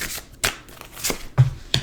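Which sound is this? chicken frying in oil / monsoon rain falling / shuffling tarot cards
shuffling tarot cards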